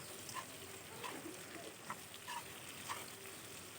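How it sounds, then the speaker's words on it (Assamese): Spices sizzling in hot oil for a sweet jujube pickle, a faint steady crackle with scattered small pops and spits, heard quietly with no voices. "এইফালে মই এতিয়া ভাজি আছোঁ"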